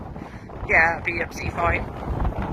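Gusty wind buffets the microphone outdoors in open countryside around Clapham and Patching, a steady low rumble that swells and eases throughout while someone talks over it.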